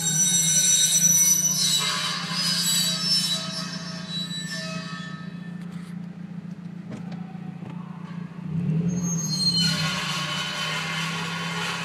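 A Mazdaspeed 3 with a suspected rock caught between brake pad and rotor gives a loud, sustained high-pitched screech that fades midway and returns strongly toward the end over a low rumble.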